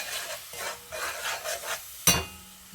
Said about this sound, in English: And we are stirring.